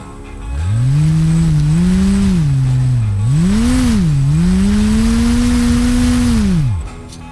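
A small brushless motor salvaged from an old CD drive spins a propeller, its loud whining tone sliding up, dipping and rising again as the speed changes, then cutting off, with no talk.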